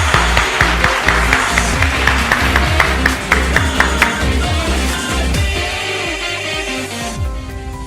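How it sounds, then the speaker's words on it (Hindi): An audience at a company's Udaan 2020 event applauds to welcome the managing director: loud, sustained clapping from a large crowd that fades toward the end, with no speech over it. "आपकी जोरदार तालियों से स्वागत कीजिए"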